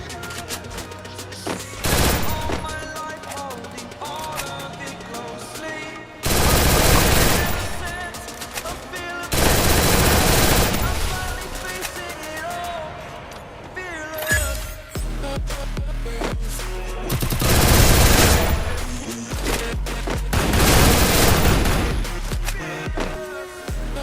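Gunfire in the Free Fire video game: repeated bursts of automatic shots in loud clusters separated by short pauses, with faint voice chat between volleys.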